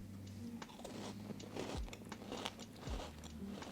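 Crunchy birthday-cake flavoured butter cookies bitten and chewed up close, with a couple of sharp crisp bites followed by steady crackly chewing, no talking over it.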